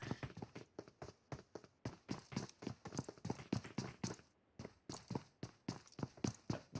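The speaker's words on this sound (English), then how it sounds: "hey, I hear footsteps" Rapid footsteps of a player character running in the battle-royale game PUBG Mobile, a steady run of quick, fairly loud thuds lasting several seconds with no talk over them.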